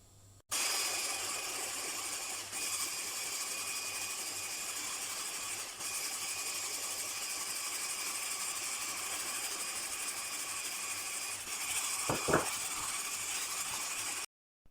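Steady mechanical whirring of an electric mixer whisking sour cream at low speed, continuous and fairly quiet, with a brief clatter near the end.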